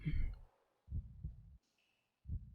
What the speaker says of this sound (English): Why am I hearing a heartbeat? It is the heart of the earth.